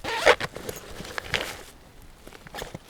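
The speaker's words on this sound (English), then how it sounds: "And the zipper is then showing the frame" A zipper on a Maxpedition Xantha internal-frame backpack is pulled open in a few quick rasping bursts, close and clear, with soft handling rustles between pulls.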